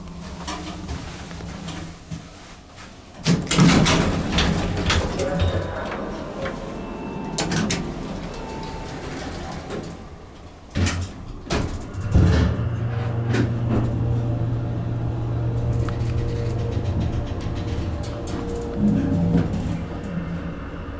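Original Otis Lexan hydraulic elevator riding up and back down: sliding door thumps and clunks, then a steady pump hum and a low motor drone during travel, with intermittent mechanical clicks and no talking.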